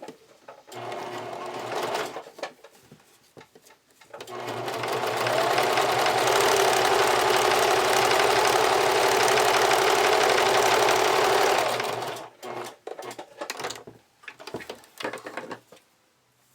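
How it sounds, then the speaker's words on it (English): Sewing machine topstitching folded elastic with a zigzag stitch runs in one loud, continuous burst of about eight seconds, with quieter handling clicks and fabric noises before and after. "I'm just going to fold this along the fold line and top stitch it down with a zigzag stitch"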